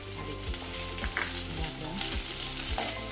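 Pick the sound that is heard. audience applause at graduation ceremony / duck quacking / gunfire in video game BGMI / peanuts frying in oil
peanuts frying in oil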